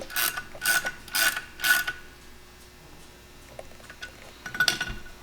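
Valves being moved on a flow bench during cylinder head testing for a Can-Am 900ACE Turbo, three quick metallic ratcheting clicks in a row, then quieter small clinks and one last rattle, close up.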